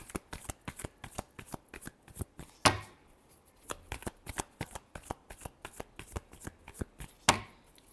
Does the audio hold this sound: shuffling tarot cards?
yes